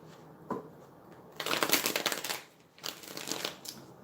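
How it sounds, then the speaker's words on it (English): Tarot cards are shuffled up close in a few riffling bursts with short pauses between them. The papery flutter is fairly soft, and no one speaks. "I'm going to shuffle up these tarot cards."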